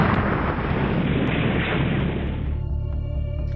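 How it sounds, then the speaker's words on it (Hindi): A car blown up with explosives by security forces in a counter-terror operation in Kashmir's Aiyangund area: a loud, sustained broadband roar of explosion and rumble that persists, then fades into a lower, ringing tail. "सुरक्षा बलों ने कार को दबोच लिया और उसे धमाके से उड़ा दिया"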